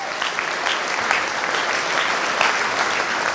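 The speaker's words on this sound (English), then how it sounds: "So give them a round of applause" A school assembly audience at a middle and upper school Black History Month event applauds the crew: dense, steady clapping from a large crowd that holds at an even level throughout, with no pauses.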